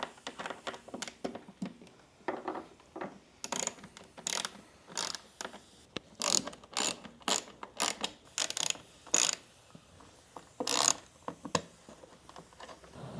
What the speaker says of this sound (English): Grab your 27mm Torx, and there's basically 7 screws